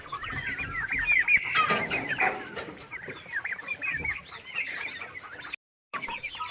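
Four-and-a-half-month-old vaccinated white turkeys call on a poultry farm, a steady chorus of clucking and gobbling calls, fairly close and continuous, with a brief gap near the end.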